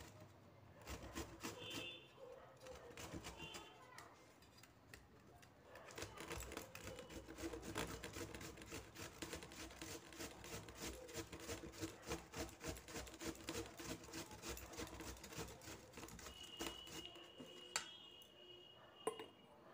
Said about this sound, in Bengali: এইভাবে পুরো মূলোটা আমি ঘষে নিলাম। দেখো, এরকম মিহি করে গ্রেট করে নিতে হবে।